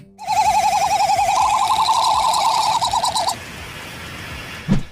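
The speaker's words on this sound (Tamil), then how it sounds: "தன்னோட இந்த பவுச்சை பெருசாக்கி தென் அதுல ஒரு விதமான சவுண்ட் எழுப்புறதன் மூலமா" A loud, warbling, quavering courtship call from a male bird's inflated throat pouch rises and holds for a few seconds, then cuts off, leaving quieter background noise and a brief thump.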